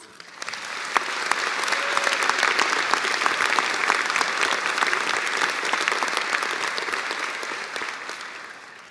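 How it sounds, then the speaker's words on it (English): A commencement audience at the University of Minnesota School of Public Health breaks into sustained applause, dense clapping that builds, holds loud and full for several seconds, then tapers slightly toward the end. "Can we take a second and give them a round of applause?"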